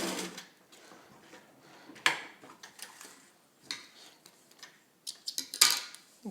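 Pink Atlas all-metal Brother sewing machine from the fifties stitching through leather, soft rapid mechanical clicking in short bursts with quiet gaps, close and faint, punctuated by a few sharper knocks.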